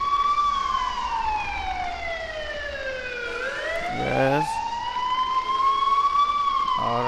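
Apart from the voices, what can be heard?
ambulance siren in a video game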